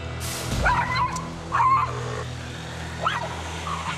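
A small dog on a walk barks outdoors at passing motorbikes and cars, reacting out of separation anxiety. It gives three sharp, close yipping barks spaced about a second apart over faint background noise.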